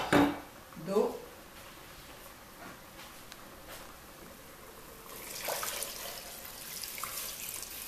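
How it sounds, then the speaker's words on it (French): Water poured over a cooking n'tro sauce in a pot, a brief splash and gurgle early on, then a steady faucet-like water flow later, fairly quiet and close. "Après 10 minutes de cuisson, je vais recouvrir d'eau."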